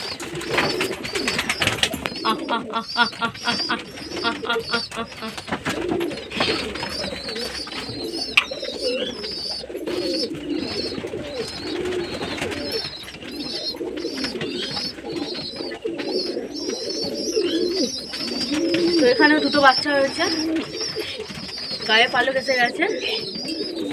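A flock of pigeons coos steadily at afternoon feeding, overlapping throaty calls from many birds close by, with occasional chirps and bursts of fluttering mixed into the constant chorus.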